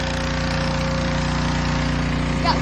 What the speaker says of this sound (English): spraying it off right now